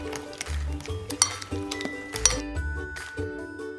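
A spoon clinks and scrapes against a bowl as wet pumpkin spice pupcake batter with egg is mixed, quick repeated taps close up over a few seconds, with no one speaking.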